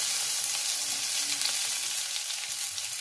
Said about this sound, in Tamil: கடுகு பொரிஞ்சிருச்சு, வந்து வெங்காயம் போட்டுடலாம்